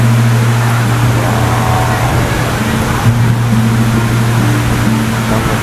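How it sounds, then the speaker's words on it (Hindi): Rain heard from inside a coach of the Jharkhand Swarna Jayanti Express train, a loud, continuous rushing wash layered over the low steady hum and rumble of the moving train. "और क्या बढ़िया बारिश हो रही है"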